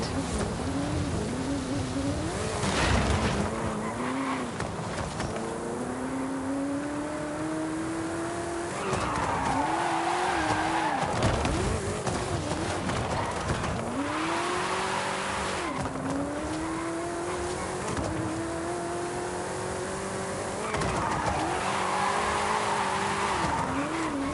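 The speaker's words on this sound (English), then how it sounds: "you all just saw me drifting a Mustang at over 100 miles an hour" A Ford Mustang Shelby drifts past 100 mph in Forza, the engine roaring loud and close through repeated rising and falling revs while tires squeal in long, wavering bursts through each slide.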